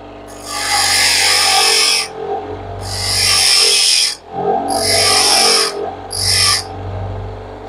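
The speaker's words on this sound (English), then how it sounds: "Grinding it flat," A drill bit is ground flat against a grinding wheel in four loud, sustained passes of harsh rasping, each lasting one to two seconds, with short pauses between them and a low motor hum running underneath throughout.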